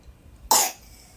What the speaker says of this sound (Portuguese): Que tosse.